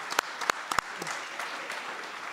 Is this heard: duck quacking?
no